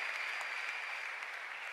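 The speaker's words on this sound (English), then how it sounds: "Let us clap for Jesus Christ." A church congregation at a Sunday English service claps for Jesus Christ, a dense, even wash of hand claps sustained without pause and heard at a distance.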